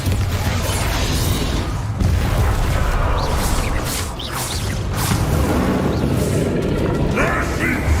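Continuous rumbling blasts and whooshing impacts from a Bombarda explosion spell during combat in the Hogwarts Legacy video game, loud and dense throughout with repeated bursts and a steady low roar.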